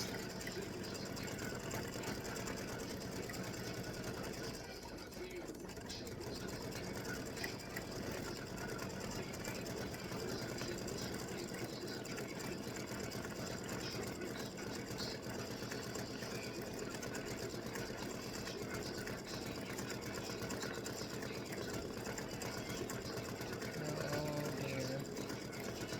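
A sewing machine stitches out a Halloween tic tac toe board, its fast, steady mechanical whir running continuously at low level.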